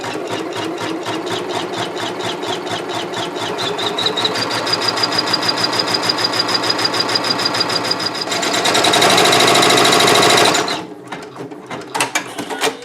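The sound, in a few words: Janome MB4 embroidery machine stitching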